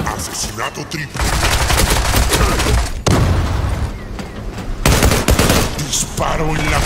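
Dense bursts of rapid gunfire in the shooter game Zula, loud and continuous, with heavy booming shots that break off abruptly a few times.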